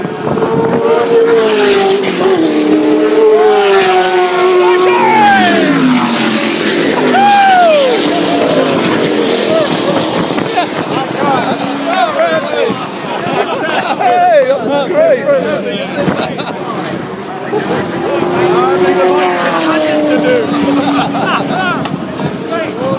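A Lola T70 Chevrolet race car roars past at Goodwood in 2012, its engine note rising and falling through gear changes over about twenty seconds, loud and close, with a commentator's excited voice running over it.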